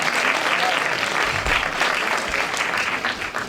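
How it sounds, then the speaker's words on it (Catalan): Dense audience applause at a political coalition presentation, steady and even throughout, close and fairly loud with no pauses. "Podeu aplaudir si voleu."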